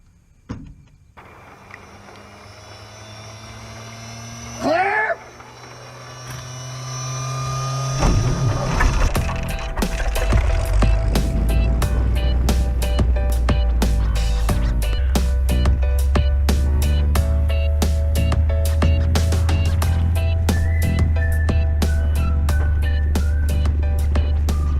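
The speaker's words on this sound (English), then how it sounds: "Field takeoff." Small airplane taking off from a small airfield in Monroe, Washington, its engine rising from a quieter run to a loud, steady roar that holds near and constant through the takeoff run.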